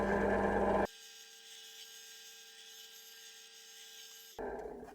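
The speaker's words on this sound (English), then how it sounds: "Now to drill them." A power drill boring holes in wood whines steadily at a high pitch for a few seconds, bracketed by louder rough grinding bursts at the start and end.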